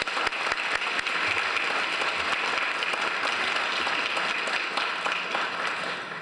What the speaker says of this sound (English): So I would like to ask you to please join me in extending an applause to Dr. Benjamin